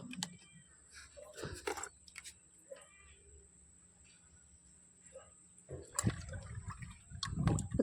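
Water for jeevamrutham garden fertilizer sloshes and pours in intermittent splashes, close and moderately loud, with quiet stretches between and a steady high electrical whine throughout.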